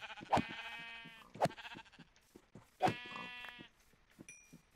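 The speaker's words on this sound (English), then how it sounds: "There's some sheep." Sheep in the Minecraft video game bleat three times in a row, clear, close and evenly spaced, each a short wavering cry with pauses between, over a quiet game background.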